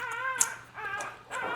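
Bulldog puppies whimpering and yipping at close range, with several high, wavering whines rising and falling over about a second and a half, alone with no talk.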